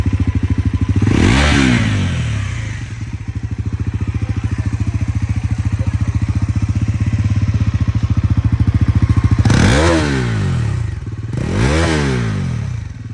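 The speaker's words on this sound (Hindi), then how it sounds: "अब इसकी एग्जॉस्ट नोट सुना दो।" A motorcycle engine idles with a loud, throbbing exhaust putter, then is revved hard three times in sharp, rising bursts.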